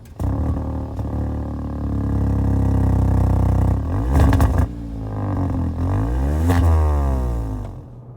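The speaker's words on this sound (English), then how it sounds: "I was quite shocked at the sound that this car makes, especially when you start it up." A Hyundai i20 N Line hatchback with a sporty exhaust fires up and revs, a loud close engine note rising and falling in several blips before settling to idle.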